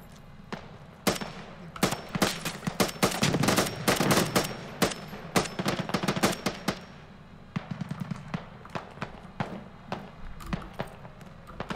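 Automatic gunfire laying cover fire in the Squad military game on Al Basrah, rapid loud rattling bursts packed together at first, then thinning into shorter spaced volleys and single shots.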